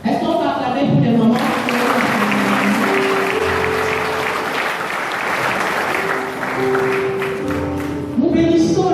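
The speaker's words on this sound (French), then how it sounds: "Est-ce qu'on va acclamer pour les moments?" A church congregation claps in sustained, loud applause that fills the room, with voices mixed in and a brief pause near the end before clapping resumes.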